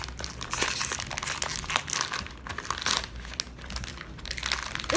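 Plastic packaging on a GameStop item crinkles and crunches close up as it is pried open, in dense, irregular bursts of rustling with no talking.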